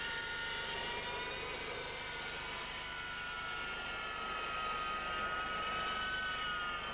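The jet engines of the Avro Vulcan XH558 RAF bomber give off a steady, loud roar with a whining hiss, a continuous drone with no pauses throughout.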